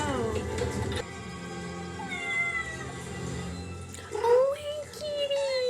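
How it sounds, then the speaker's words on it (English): A cat meows several times in the foreground, the cries rising and drawn out, with a long wail near the end, while people talk quietly in the background. "kitty."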